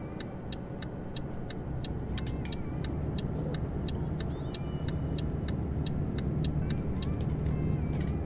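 A car on the road in Euro Truck Simulator 2 drones as a steady, loud rumble, with a regular ticking like a turn indicator clicking throughout.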